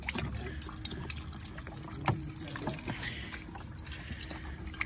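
Pool antifreeze, a gallon per skimmer, poured into an empty in-ground gunite pool skimmer, a close steady trickling and splashing of liquid with a brief louder gush partway through.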